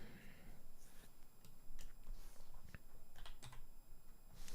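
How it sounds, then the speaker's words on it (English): Fingers tap out a part number on a computer keyboard in quick, uneven bursts of crisp keystrokes, close by, with a low hum underneath and a voice talking now and then. "take a chance on typing the part number"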